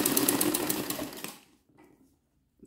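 An embroidery sewing machine runs a straight stitch in fast, rapid regular stitching for over a second, then stops, leaving near silence with a faint click at the end.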